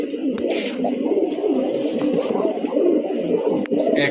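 Gorra pigeon, a single Chhapchok female, cooing in repeated soft throaty burrs close by, with light rustling and no talk.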